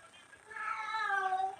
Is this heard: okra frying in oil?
no